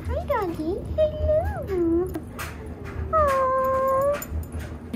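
A dog at a seller's home whimpers and lets out several rising and falling howling whines, fairly close and loud, with a person's voice and background noise mixed in.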